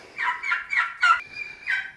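Turkeys gobble and chatter in a barn as they are let out of a brooder, giving a quick series of five or six close, warbling calls.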